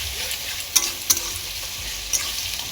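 Ginger garlic paste sizzles loudly with onions in hot oil while a utensil stirs it, a constant close frying hiss broken by three sharp scraping clicks.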